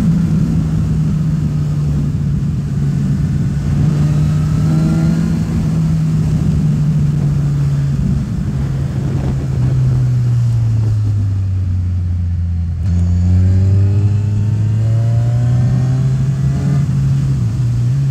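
Kawasaki Z1000 naked motorcycle engine on the move, a loud, continuous drone that rises and falls with throttle, with a noticeable pitch drop and climb as gears change, mixed with wind rush.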